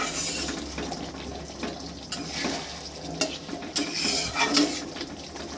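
Masala sizzling and frying in oil while being stirred for a fish curry, with steady crackling and intermittent scraping strokes of the spoon against the pan, close and moderately loud with no talking.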